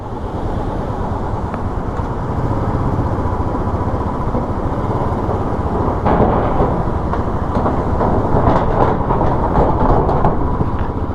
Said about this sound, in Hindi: पुल की आवाज़ आ रही है, डब डब डब डब।